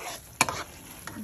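Egg halwa mixture of ande ka halwa frying in a pan until golden brown, a soft background sizzle with one sharp stirring scrape and a few quieter scrapes.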